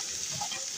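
Tomatoes, green chilies and onions fry in a pan as spices are added for chana pulao, a steady close hiss of oil sizzling with no voices.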